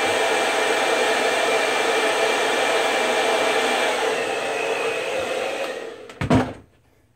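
Handheld hair dryer on its cool shot setting, blowing steadily and loudly at close range for several seconds while shaping a beard and mustache, then cutting off with a couple of clunks and a short bump before falling silent.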